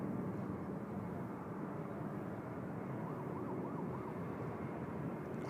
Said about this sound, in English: I don't actually know where the siren's coming from, but it's coming from one of those trucks, I think.